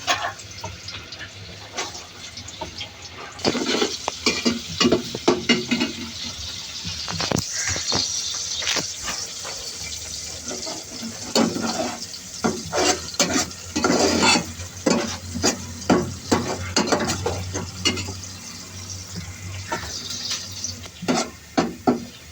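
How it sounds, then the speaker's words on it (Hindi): Chopped onions fry in a home kitchen pan while a spoon stirs them, giving a steady low sizzle broken by frequent sharp scraping and clinking strokes of varying loudness, with no talking. "अब यहाँ पे प्याज ब्राउन हो जाएगी। मम्मा चलाएंगे इसमें चमचा।"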